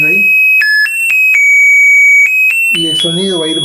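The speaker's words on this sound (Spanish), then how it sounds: "Creo que ese sería el timbre electrónico de una sola melodía" Electronic single-melody doorbell tune from a musical greeting-card circuit run at 6 volts, a loud, thin beeping melody of sustained stepped tones, joined near the end by talk over it.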